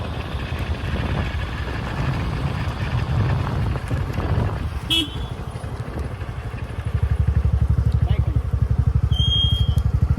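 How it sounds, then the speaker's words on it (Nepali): A motor scooter being ridden gives a low, steady engine drone with wind buffeting the microphone, and the rumble grows louder and more pulsing toward the end. "स्कुटरमा पनि फर्स्ट टाइम चढाइ हुँदैछ मैले किनेको स्कुटर"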